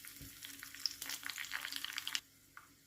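A tempering of spices frying in a small pan sizzles with crackling pops and brief stirring scrapes, close and moderately loud, then fades to quiet near the end.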